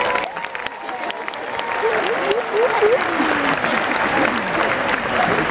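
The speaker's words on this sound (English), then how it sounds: "They just got a party, so we're going to clap for them." An audience at a company family reunion event breaks into sustained applause, the clapping loud and continuous with crowd noise and some cheering mixed in.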